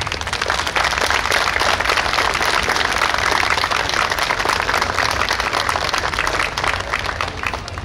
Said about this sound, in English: we think it's those guys that deserve a real round of applause